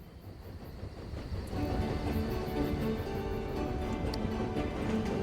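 A train rolls along rails in a rail-building video game, a steady rumbling drone with faint rhythmic clicking that grows a little louder partway through and holds without speech.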